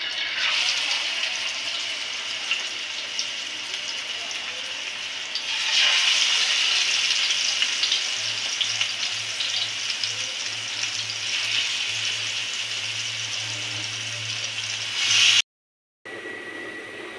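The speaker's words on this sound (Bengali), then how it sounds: "এখন মাছগুলো আমি দিয়ে দিচ্ছি।" Marinated fish goes into a hot pan with onion, ginger-garlic paste and spices, setting off a steady, close sizzle that holds throughout and briefly cuts out near the end.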